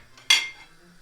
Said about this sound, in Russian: Вот теперь, друзья, в кастрюльку с водой кипящей мы опускаем наше сало.